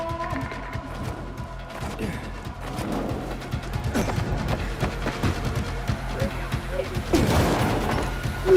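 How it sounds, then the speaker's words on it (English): Cannon fire in the Dying Light 2 video game, repeated heavy booms and crashes amid dense combat noise, with game voices talking over the rumble. "Another cannon to the south."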